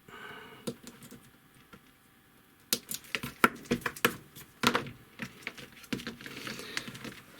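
Flush cutters snip component leads on a Technics C-01 amplifier board under repair, giving a quick run of sharp, crisp clicks heard close up in a quiet room.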